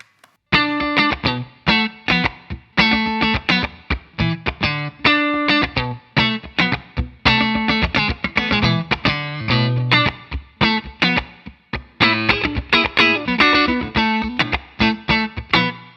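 Rhythmic clean Stratocaster electric guitar playing choppy funk chords with a reverb tail, loud and continuous, with no voices.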